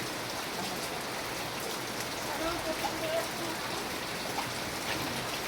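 Steady rain falls outdoors, a dense, even hiss of drops hitting surfaces that runs throughout, with faint voices in the background.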